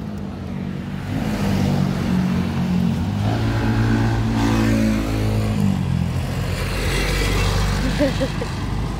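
Cars, motorcycles and tricycles pass along a busy street, engines rising and fading one after another, close by and fairly loud, with people talking over the traffic now and then.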